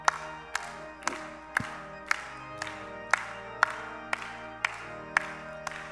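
A church congregation claps in a steady, even beat of roughly two claps per second over sustained instrumental hymn music, as though keeping time before singing.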